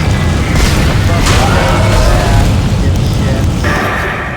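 A shuttle exploding in the sci-fi horror game Dead Space, a loud, sustained roaring blast with crackling debris that slowly fades near the end.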